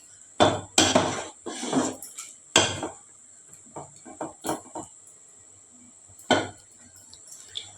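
A spoon knocks and scrapes around a metal pot of rasam as it is stirred, giving a run of sharp, close clanks, bunched near the start and with a few lighter taps afterward.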